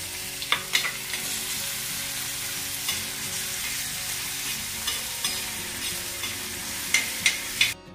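Ginger and onion fry in a pan on medium heat, giving a steady crackling sizzle for the whole stretch, with occasional spatula knocks that grow more frequent near the end; close and even.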